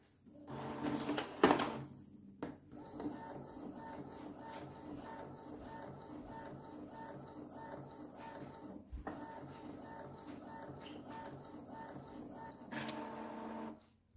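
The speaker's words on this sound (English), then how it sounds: "Okay, starting the printing. This is a standard quality." An Epson EcoTank L6160 printer runs a print job at standard quality, a steady mechanical whir with rhythmic carriage passes and clicks, a louder paper-feed burst at the start and another near the end, heard up close with no talking.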